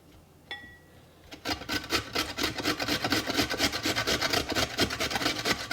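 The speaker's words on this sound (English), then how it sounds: "It shouldn't take long to grate up a couple small beets here." Two small beets are rubbed against a grater in a fast, steady back-and-forth rasping rhythm, close and distinct, beginning after a brief quiet moment.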